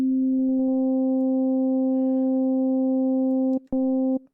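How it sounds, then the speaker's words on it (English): Arturia Pigments synth playing a classic FM tone with a sine wave modulator, a steady, pure sustained note with a few soft clicks, cutting off and briefly retriggering at the end. "let's just select sine wave so you can hear more classic FM sound."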